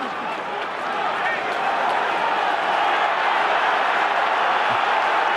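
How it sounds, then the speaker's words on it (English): Home crowd at a 2009 rugby match between the Lions and the Sharks, a steady, loud roar of cheering and noise from the stands running throughout, swelling slightly toward the end. "Home crowd starting to enjoy"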